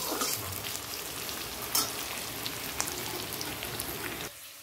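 Onions frying in hot oil for birista, a dense close crackling sizzle like steady rain with a couple of sharper spatula knocks, cutting off abruptly near the end.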